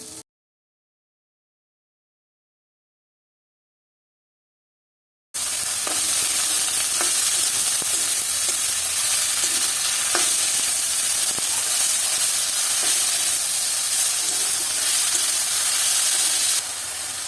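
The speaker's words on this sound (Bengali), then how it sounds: "পেঁয়াজ রসুনটা অল্প ভাজা ভাজা হয়ে গেছে। এখন আমি এই কুমড়ো পাতার শাকগুলো দিয়ে দেবো।" Pumpkin leaves with onion and garlic fry in a pan, a loud continuous sizzle with faint stirring scrapes, beginning abruptly after several seconds of silence and holding steady to the end.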